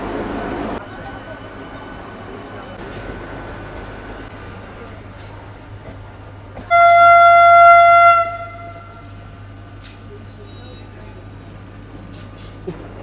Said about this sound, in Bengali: হাওড়া থেকে কিন্তু ছেড়ে বেরোচ্ছে পুরী বন্দে ভারত, এই যে যাচ্ছে